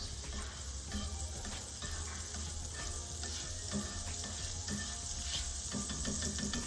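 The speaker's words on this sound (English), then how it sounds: "Now that's a nice sizzle." Butter sizzling and crackling in a hot frying pan while cooking pikelets, a steady hiss with occasional pops and stirring scrapes, no talking.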